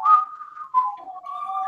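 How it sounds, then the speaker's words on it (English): A person whistles a short, clear tune of sustained pitched notes with a brief break in the middle, close and alone in a studio show setting. "When they finish whistling."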